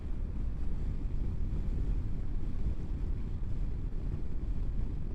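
Steady wind roars across a rider on a moving Honda NC750X motorcycle. It is a continuous, low, buffeting rush with no breaks, close and dominant, and no speech is heard.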